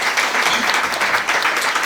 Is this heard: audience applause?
yes